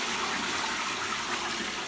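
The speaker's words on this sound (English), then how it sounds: "then you'll just flush the toilet" A toilet flushing, a steady loud gush of rushing water that holds evenly throughout with no talking.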